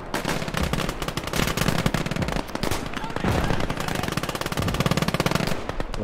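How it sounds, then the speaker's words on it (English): An MG42 machine gun in the Last Grenadier 1946 strategy game, firing long, rapid, ripping bursts that run almost nonstop at close, loud range, with other battle noise and a voice mixed underneath. "I love the sound of an MG42. It is absolutely brutal."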